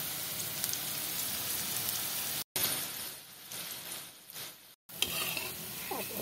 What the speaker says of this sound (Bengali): এভাবে করে অপর পিঠটাও আমি আরেকটু সময় ভেজে নেব